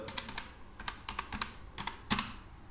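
Someone types a name on a computer keyboard while working in a Google Sheets spreadsheet: crisp, close key clicks in irregular bursts, ending in one louder press, with no voice.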